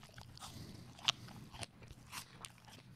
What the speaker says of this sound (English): Couple things you notice from the first bite, very crunchy skin.